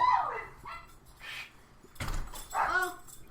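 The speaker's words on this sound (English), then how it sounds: "Hey, that was my service dog." A service dog barks indoors in a few separate sharp yips and barks with short gaps between them, fairly close and moderately loud, with no talk over it.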